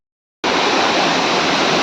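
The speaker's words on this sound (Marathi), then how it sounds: "आता मी या वरच्या धबधब्यावरती पोचलोय" A village waterfall pours in a steady, loud, unbroken rush of falling water after a brief silent start, close by with no voices.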